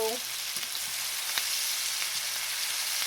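Mushrooms, caramelized onions and peppers frying together in one skillet for fajitas, giving a steady, close, even sizzle with faint stirring clicks throughout.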